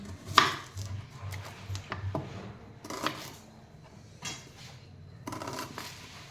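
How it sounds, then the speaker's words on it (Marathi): Knife chopping onion on a board while preparing restaurant-style paneer tikka at home: several separate bursts of cutting taps spread across the clip, fairly close, with quiet gaps between strokes. "तसाच आपल्याला कांदा पण कापायचा आहे"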